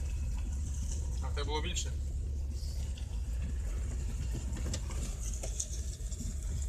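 A GAZ 21 car with a fully rebuilt engine runs with a low, steady rumble under a brief exchange of voices.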